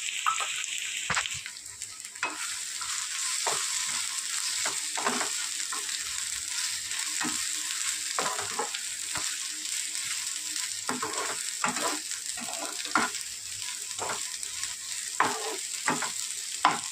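Fish curry masala with turmeric, cumin, coriander and garam masala sautés in a pan, a constant close sizzle broken by regular scraping stirs of a spatula, with no voices.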